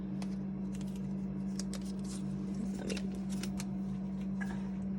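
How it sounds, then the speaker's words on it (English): Several crisp scissor snips cut through tape, irregularly spaced, close by over a steady low electrical hum. "So you can use scissors"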